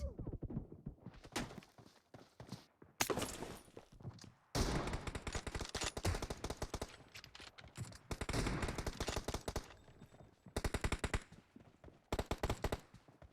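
Shotgun and weapon fire in a PUBG Mobile arena match, sounding as sharp repeated bursts and single blasts in clusters across the clip, loud and close, with brief quiet gaps between exchanges.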